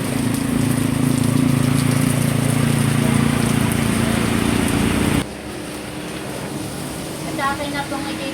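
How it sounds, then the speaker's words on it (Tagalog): Heavy rain roars loud and continuous with a low mechanical hum beneath, then drops to a softer steady downpour where brief faint voices surface toward the end. "Grabe po kalakas ang ulan."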